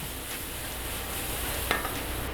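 Garlic sizzling in hot oil in a pan, a steady loud hiss of frying that fills the whole stretch, with one brief scrape or clink near the end.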